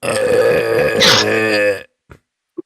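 A voice imitates one long, drawn-out burp, loud and gravelly for nearly two seconds, then cuts off, leaving two brief quiet blips.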